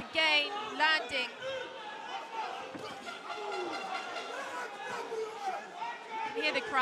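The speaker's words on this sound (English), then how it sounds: "You can hear the crowd going, ooh." A crowd at an Enfusion 132 kickboxing bout lets out oohs as punches land, a steady roar of murmur and reactions rising and falling under close commentary.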